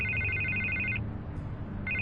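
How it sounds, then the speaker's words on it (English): Electronic telephone ringtone in a Batman video game, two bursts of trilling rings with a gap between, heard over a steady low background hum. "I can't get the phone to stop ringing."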